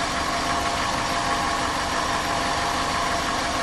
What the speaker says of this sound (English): We have successfully jump-started a vehicle with a dead battery safely.